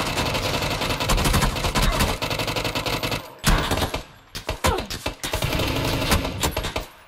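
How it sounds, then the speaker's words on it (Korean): Gunfire in a PUBG squad match: loud, sustained automatic bursts with rapid repeated shots, broken by a brief lull and then several scattered louder reports before the firing resumes, with engine-like rumble underneath. "전방 NW 총소리 언덕 쪽"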